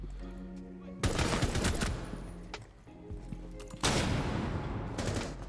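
Rainbow Six Siege gunfire on console comes in two loud, rapid bursts separated by a quieter gap with faint scattered shots, close and sharp.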